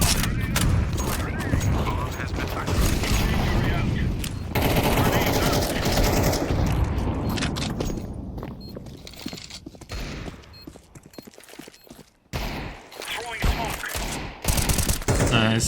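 Gunfire in the video game Counter-Strike 2: rapid bursts and single shots crack loudly in clusters, with sharp isolated reports and pauses between volleys, under intermittent player chatter.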